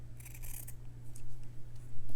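Scissors trim fabric in a few short, crisp snips, close to the microphone over a low steady hum, with no talking.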